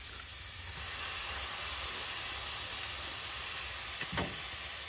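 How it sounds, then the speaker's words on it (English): Chopped onion and minced garlic sautéing in a skillet with browned meat for Zuppa Toscana, a steady soft sizzle and hiss throughout, with a brief clatter of stirring near the end. "now I'm gonna go ahead and add in my onion and some minced garlic here"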